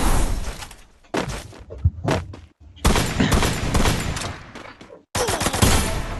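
Bursts of gunfire in video game gameplay, loud broadband volleys broken by short silences, with a few sharp single shots and shattering hits.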